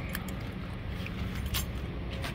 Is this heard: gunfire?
no